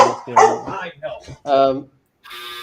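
A pet dog nearby gives a few close vocal barks and whines in quick succession, loud and up front, with a person talking around them.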